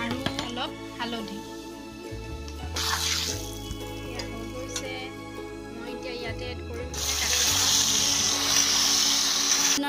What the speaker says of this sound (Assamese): তেল গৰম হৈ গৈছে মই ইয়াতে এতিয়া এড কৰিম ভেন্দিখিনি